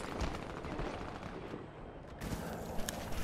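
Gunfire in the Warface video game: rapid bursts of automatic shots, fairly faint, running continuously under game noise with a few sharper cracks near the end.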